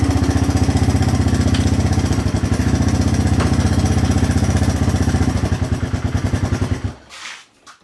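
A Honda XR200R motorcycle engine, just back from a clutch repair, idles loud and close in a fast, steady thumping beat that falters briefly near the end, then cuts off into a short fading rattle.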